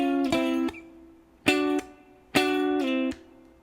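Guitar playing a phrase from a song: clean, sustained double-stop notes struck with downstrokes in short repeated groups, each chord ringing briefly before being cut off, played alone with no talking.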